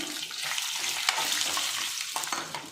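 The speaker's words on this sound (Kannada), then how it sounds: "ಇದು ಸ್ವಲ್ಪ ಫ್ರೈ ಮಾಡ್ಕೊಳ್ಳೋಣ ನೋಡಿ ಇದು ಚೆನ್ನಾಗೆ ಕಲರ್ ಚೇಂಜ್ ಆಗಿದೆ ಈಗ ಇದಕ್ಕೆ ನಾನು ಒಂದು ಆರು ಏಳು ಒಣಮೆಣ್ಸಿನ್ಕಾಯಿ ಹಾಕ್ತಾಯಿದ್ದೀನಿ" Six or seven dry red chillies fry in hot oil for a pudina chutney, giving a steady, close, loud sizzle with faint stirring scrapes and no talking.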